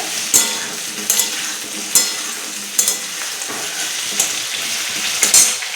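Potato pieces frying in hot oil for a soybean and potato curry, a steady close sizzle broken by regular sharp clinks of a spatula against the pan roughly every second, no voices.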